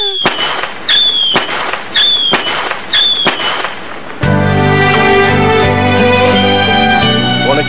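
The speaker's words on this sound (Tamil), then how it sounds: "பட்டாசு வாங்கிட்டு வந்திருக்க, ஜாலியா வெடிக்கலாமா?" Cartoon firecrackers burst in a row of sharp cracks with whistling tails, then a long crackling, ringing fizz of fireworks, loud and close with no talking.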